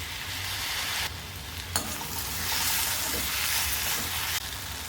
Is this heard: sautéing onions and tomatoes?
yes